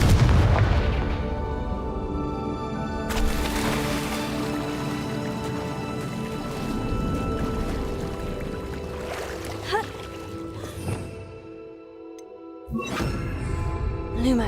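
Confringo fire spells cast in the video game Hogwarts Legacy, with deep booming blasts and crackling rumble over a continuous game soundscape, one sharp burst near the end after a brief lull.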